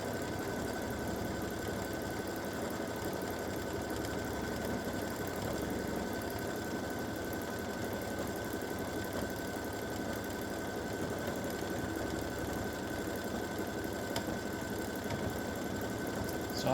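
A machine embroidery quilting machine stitching edge-to-edge loops, a steady fast mechanical hum and rapid needle chatter throughout, close and fairly quiet with no voices.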